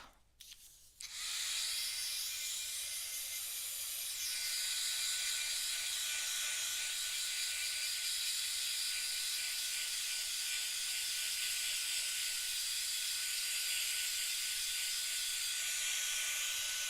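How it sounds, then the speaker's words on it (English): A hair dryer blows onto watercolor paper with a steady, loud airy hiss after a brief click of switching on, running continuously without pause. "I'm going to grab my dryer and see if I can get this dried up."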